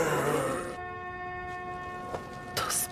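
A car horn stuck blaring nonstop in a zombie film, a steady sustained tone that holds unbroken for several seconds, with brief noisy bursts rising over it near the end.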